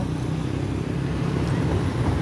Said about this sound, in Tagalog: Si kuya, ang ganda ng TMX Honda